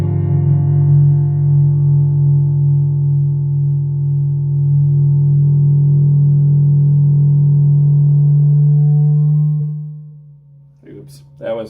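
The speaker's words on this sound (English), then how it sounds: "Cross-weighting sine waves." A Rossum Panharmonium synthesizer cross-weights sine waves into a loud, steady low drone with stacked harmonics that holds for about ten seconds, then fades out, followed by a few brief faint blips.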